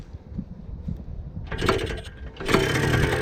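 A 1978 Kawasaki KD175 motorcycle engine fires up after quiet mechanical fiddling, bursting into a loud buzzing run that dips briefly and then surges again into a steady close idle.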